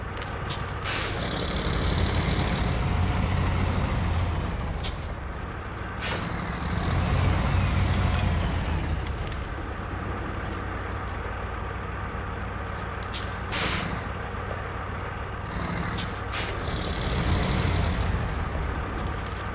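Heavy truck engine rumbles steadily in SnowRunner while towing another truck, with sharp air brake hisses bursting out several times over the drone and a faint reversing beep at times.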